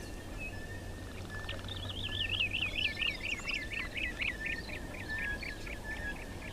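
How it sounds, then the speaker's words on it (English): Brown-crowned tchagra at a waterhole giving a run of repeated rising whistled notes, fairly clear over steady outdoor ambience, with no talk. "brown crowned chagra there as well."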